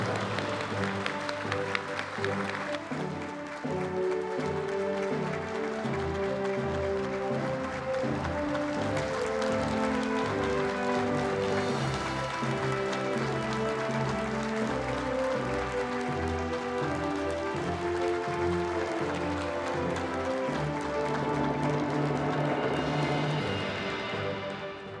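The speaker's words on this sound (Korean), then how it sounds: "여러분 뜨거운 박수로 맞이해 주십시오" Sustained audience applause at the launch ceremony of the next-generation Aegis destroyer Jeongjo the Great, welcoming the president; a dense, continuous wash of clapping mixed with ceremonial music, steady for about twenty-five seconds.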